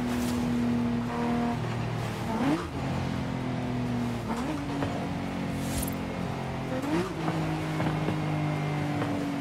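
A Lamborghini Huracan engine in Forza Horizon 5 drones steadily as the car is driven, with rising revs and several quick gear-shift dips as it accelerates, close and continuous with no talk.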